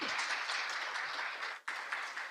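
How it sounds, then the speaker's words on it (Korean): Steady applause from a conference audience greeting a presenter at a publishing industry event, even and fairly soft, with a brief break near the end before clapping resumes. "박수 좀 부탁드리겠습니다."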